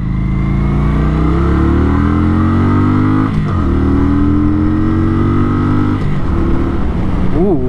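Close-up engine drone of a Kawasaki Vulcan 900 Classic motorcycle riding on a road, its tone sweeping upward through the gears as it accelerates hard, with brief dips at the shifts and wind mixed in.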